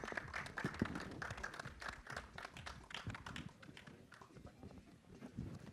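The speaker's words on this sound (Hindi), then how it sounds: "एक बार जोरदार तालियां" Crowd applause for guests on stage at a film trailer launch event in a mall, a steady patter of clapping with scattered taps, fairly faint and continuous.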